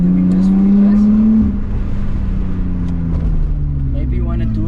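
A Lexus IS 300 with a manual gearbox drives with the windows open, its engine loud and close as it holds a rising drone, then drops to a steadier cruising hum.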